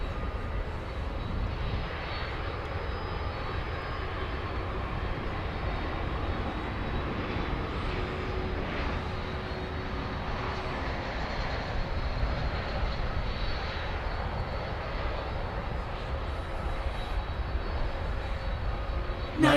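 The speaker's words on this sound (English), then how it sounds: "30-year-old aircraft, American 1406" A 30-year-old American Airlines airliner, flight 1406, roars steadily at an airport, a broad, sustained engine rumble that stays loud and even throughout, no speech over it.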